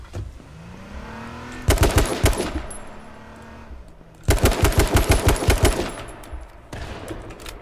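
Automatic rifle fire in the battle royale game H1Z1 King of the Kill comes in two loud rapid bursts of shots, with a vehicle engine humming and revving underneath and another short burst at the end.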